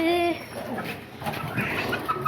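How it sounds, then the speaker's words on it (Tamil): A pet hen clucks in short, close calls, a brief run of throaty notes with some background chatter. "இது நார்மல் கோழி. அது சேவல்."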